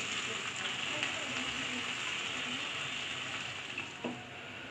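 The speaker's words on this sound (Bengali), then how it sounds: "পেঁয়াজটা আমি ভালোভাবে ভেজে নিচ্ছি, একদম বাদামি কালার করে ভেজে নেব।" Chopped onion sizzling in leftover oil from frying koi fish, a steady close hiss of pan frying that runs unbroken throughout, with no talking.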